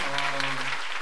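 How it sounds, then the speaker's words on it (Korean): Theatre audience applauding at the closing-night curtain call of the musical Bare, a dense, steady wash of clapping filling the hall, with a sustained tone running underneath for most of it. "다시 한번 큰 박수 부탁드립니다."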